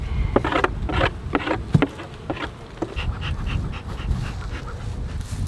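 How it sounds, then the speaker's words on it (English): Honey bees buzzing around the top of a backyard hive box, a steady close drone with several louder passes as individual bees fly near. "There's bees on top of this one."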